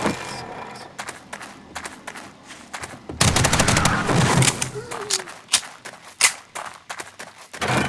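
Rapid gunfire in the zombie survival game 7 Days To Die, a dense close volley followed by scattered sharp individual shots, with faint talk beneath.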